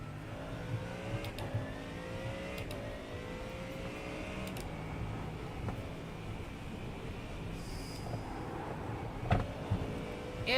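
A Mustang GT3 race car engine in a video game revs and whines steadily at moderate volume, its pitch rising and falling with occasional sharp clicks and thumps.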